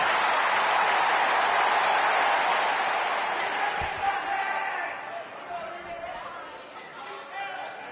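An arena crowd in the wrestling game WWE 2K19 roars loudly at first, then the cheering gradually fades into lower chatter, with commentary voices talking over it.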